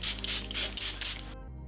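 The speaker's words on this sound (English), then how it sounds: "I'm gonna use the Charlotte Tilbury Airbrush Flawless Setting Spray." Charlotte Tilbury Airbrush Flawless Setting Spray mists onto a face in several close, hissing pulses, with a steady low hum beneath, then cuts off abruptly into quiet.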